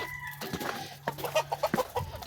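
A hen on a farm during winter chores clucks in a rapid series of short, close, fairly loud calls, with a steady background hum beneath.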